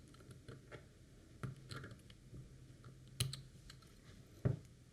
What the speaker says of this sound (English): So I'll bring my thread snips in and clip off that extra.